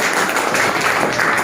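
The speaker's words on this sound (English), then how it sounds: "Clap for him." A classroom of students claps for a classmate, producing a brief, dense burst of loud, steady applause throughout.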